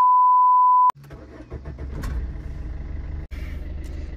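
A car fitted with motorcycle handlebars in place of a steering wheel: a steady beep tone first, then the engine cranks and catches, settling into a loud, close, rumbling idle with a brief dropout near the end.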